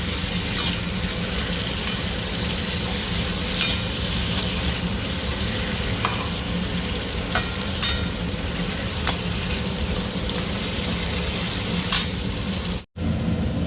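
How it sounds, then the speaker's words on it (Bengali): Vegetables fry in hot oil with turmeric and salt, giving a steady, close sizzle throughout, with occasional sharp crackles and spatters over the constant hiss. "আগে হলুদ লবণ দিয়ে ভাজা হচ্ছে সবজিগুলো।"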